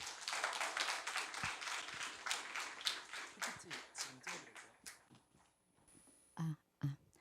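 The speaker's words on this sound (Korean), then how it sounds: "박수로 맞이 부탁드립니다" An audience at a university humanities lecture welcomes a professor with applause that starts fairly full and thins into scattered claps, fading toward the end, with a few isolated taps or bumps at the close.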